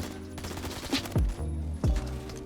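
Gunfire from a long-range weapon in the Phantom Forces video game, a steady rattle of shots with two heavier bursts standing out over continuous in-game noise.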